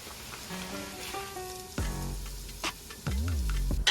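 Onions and cumin frying in a skillet, a constant close sizzle overlaid with tonal squeaks, low thumps and utensil knocks from nearby kitchen handling, without talking.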